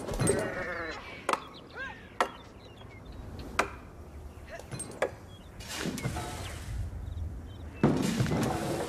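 Sheep bleat in a strategy video game: a wavering bleat at the start and another soon after, among sharp chopping clicks and a low game ambience, with no talking.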